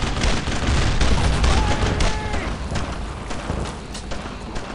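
Dense World War II-style gunfire fills a Brothers in Arms battle, with rapid overlapping rifle and machine-gun bursts and heavy booms, loud and sustained, while soldiers' voices call out faintly beneath.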